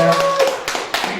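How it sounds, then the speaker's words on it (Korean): An audience claps after a song in a pre-show performance at a cultural art event, a brief burst of a few separate, crisp claps over about a second. "좋은 노래 감사하다는 화답의 박수 다시 한번 부탁드릴게요."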